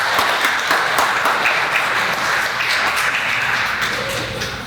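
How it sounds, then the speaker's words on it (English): A graduation ceremony crowd gives a loud, dense, steady round of applause for the board members, the clapping filling the hall continuously with no break. "Can I please get a beautiful round of applause for our awesome board members"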